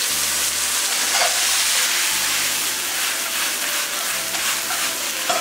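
Jute leaves stir-fried in lard with garlic crackle in a hot wok, a steady close broadband sizzle and hiss running throughout with faint stirring scrapes and no voices.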